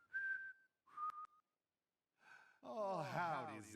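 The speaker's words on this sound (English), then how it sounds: "And that was the Deadly Premonition 1 whistle theme." The whistled theme from the video game Deadly Premonition plays as short, clear, sliding whistled phrases separated by pauses, then shifts into a fuller, warbling melodic passage at the end.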